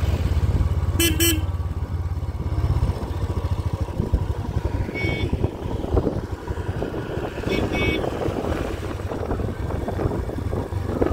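A motorbike climbs a Darjeeling mountain road in first gear, its engine droning loudly and steadily throughout, with short horn toots sounding near the start and twice more later.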